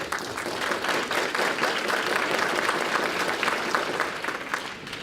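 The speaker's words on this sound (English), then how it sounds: "About a round of applause for these folks." An audience applauding fellows and alumni at an education forum, a sustained burst of many hands clapping that fades slightly at the end.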